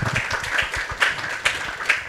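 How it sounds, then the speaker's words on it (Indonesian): An audience at an Indonesian student talk show in Denpasar claps in a loose, moderately loud burst, with a few sharper accented claps standing out at regular intervals over a short stretch. "Tepuk tangan untuk kita semua."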